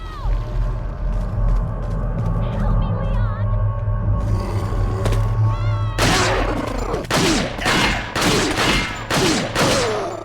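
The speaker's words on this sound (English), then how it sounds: "Shoot them in the butt, and they should be coming down like anyone else." Gunfire in Resident Evil 4 (2005) as enemies on the island are shot: a rapid run of sharp, loud shots fills the last few seconds, following a stretch of steady game ambience with a voice talking.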